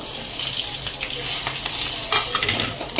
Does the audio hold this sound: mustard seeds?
yes